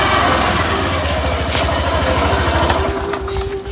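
An Activa scooter engine idles nearby with a steady low putter and a faint thin whine, running evenly throughout.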